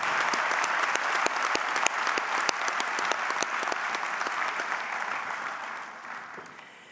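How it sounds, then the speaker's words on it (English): Audience applause at a Massey University graduation ceremony in Auckland, a dense and sustained wash of many hands clapping that stays steady and then thins slightly toward the end, with no voices over it. "can we give a big round of applause to Claire Amos?"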